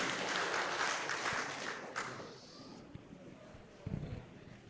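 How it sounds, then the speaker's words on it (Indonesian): A congregation claps at a New Year church service. Dense applause fills the first couple of seconds, then fades to scattered claps and murmuring. "Tepuk tangan untuk Tuhan."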